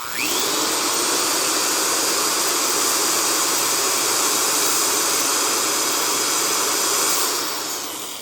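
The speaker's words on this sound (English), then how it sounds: "I think this sounds better than my Bosch drill." An electric drill whirs loudly and steadily, spinning up at the start and winding down at the end, with no talking.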